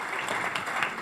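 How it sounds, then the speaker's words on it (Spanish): Applause from an audience at a civil-society and media panel discussion, a steady dense patter of clapping filling the brief moment without any speech. "Le damos un aplauso."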